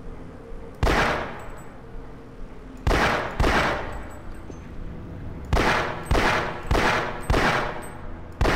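Burst gunfire from a weapon in the video game Half-Life, loud sharp shots in uneven groups: one, then a pair, then a rapid run of four or five, with quiet gaps between and no talk.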